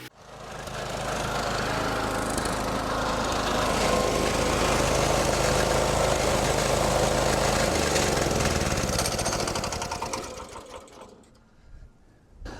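A Woods kinetic log splitter splitting firewood drones with a loud, steady engine whir and mechanical clatter for about ten seconds before winding down and stopping.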